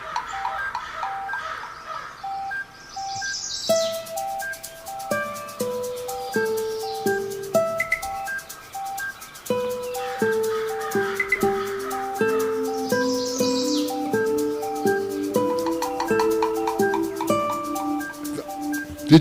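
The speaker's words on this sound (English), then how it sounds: "Here, he added the birds" Recorded birdsong chirps and tweets open a stage show, bright bursts of calls woven over a steady, stepping instrumental melody that runs throughout.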